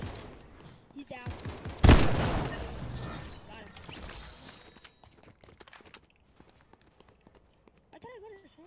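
Gunfire in a Fortnite duos match, with a loud burst of shots followed by scattered quieter shots, running footsteps and game effects. Players talk over the action throughout.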